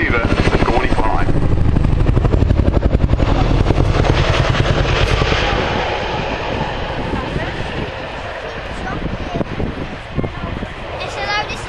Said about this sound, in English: It is well known that the Chinook makes an incredible sound while in flight